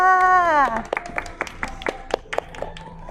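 At a prize draw during the Motor Show Hatyai 2021, a short spell of a voice gives way to sparse, scattered hand claps from a small audience, spaced unevenly and fading out.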